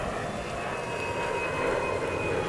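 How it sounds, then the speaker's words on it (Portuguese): A stricken airliner roars steadily overhead in a first-person action game, its jet engines droning loud and unbroken with a faint whine riding on top. "Há um avião caindo?"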